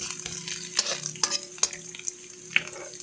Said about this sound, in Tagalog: Haluin lang yan.